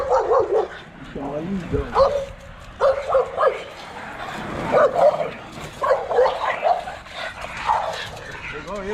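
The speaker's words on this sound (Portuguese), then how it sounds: "Ele também queria latir mais alto que o outro." Pit bull and American Staffordshire terrier dogs bark repeatedly in the woods, loud close yips and bow-wows in uneven bursts, with a person talking over them.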